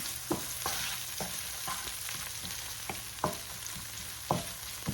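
Chicken cacciatore frying in a pan gives a steady sizzle, with a few sharp, close stirring scrapes at irregular intervals.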